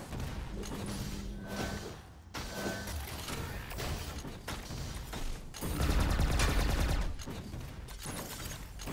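Rocket fight gunfire in the Quake video game, with dense bursts of explosive shots and impacts crowding together, louder thumping blasts near the middle, continuous and with no voices.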